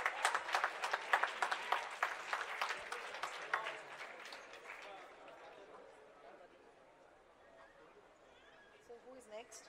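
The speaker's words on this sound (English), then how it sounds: "Please give them a huge round of applause." An orientation-day audience at BITS Pilani's Dubai campus applauds during a gift presentation; dense clapping for about four seconds fades into murmuring voices and chatter.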